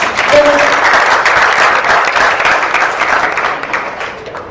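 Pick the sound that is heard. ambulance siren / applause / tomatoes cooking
applause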